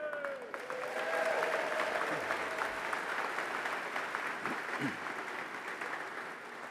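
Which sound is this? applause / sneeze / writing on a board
applause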